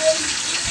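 Water pours out of a bucket in a short, continuous gush while saluyot is cooked outdoors on a farm, up close with no voices.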